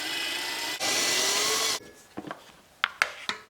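Unscrewing the air snorkel on a Yamaha FZ07 motorcycle: a steady, fairly loud second of whirring power-driver noise, then a few short sharp clicks and scrapes of screws and plastic, close by, with no talk.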